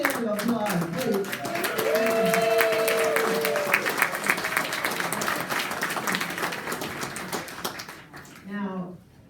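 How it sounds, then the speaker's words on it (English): Applause at a club's monthly general meeting, a steady crowd clapping that swells, holds, then tapers off, with chatter and a raised voice mixed in and a speaker starting again as it dies down. "Let's give Rusty a big hand of applause, please."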